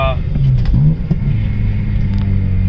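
A Honda Civic Si EP3 engine roars loudly and steadily at high revs above 5,000 RPM, a deep rumbling drone with a strained edge throughout.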